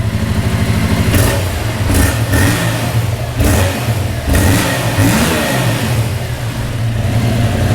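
A brand new Yamaha YZF-R7 sport motorcycle engine revved up close, loud and throaty, rising and falling in several quick blips over a steady idle, with no talking.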